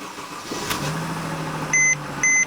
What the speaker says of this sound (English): then you start the car